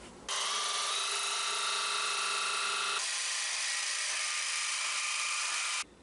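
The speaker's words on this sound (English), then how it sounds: "I'm going to use a jigsaw with a metal cutting blade." Close, high-pitched buzzing of a jigsaw fitted with a 24-teeth-per-inch metal-cutting blade as it saws through a metal baseboard heater cover, running continuously for about five and a half seconds with a shift in pitch midway.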